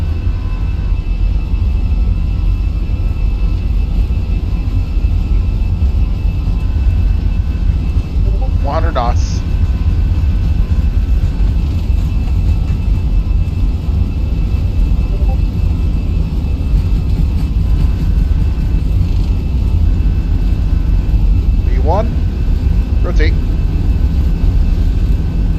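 Airbus A320 with CFM jet engines at takeoff thrust in a flight simulator: a steady, loud, broadband engine roar with deep rumble runs throughout, with a couple of brief chirps over it.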